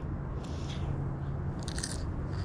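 A crunchy home-pickled garden radish is bitten and chewed up close, with a few crisp crunching bursts over a low steady background hum.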